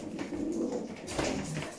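Homing pigeons cooing inside a loft, soft throaty low coos overlapping in a short close burst with rustling behind.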